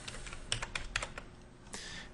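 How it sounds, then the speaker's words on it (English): Quick bursts of keys typed on a computer keyboard while entering random numbers, a cluster of crisp clicks followed by a short pause and another run, close and fairly quiet. "So just start typing some random values."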